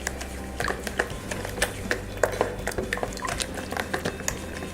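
Wet and dry blueberry muffin ingredients being mixed in a bowl, with repeated clinks and scrapes of a utensil against the bowl in an irregular rhythm, close and fairly clear.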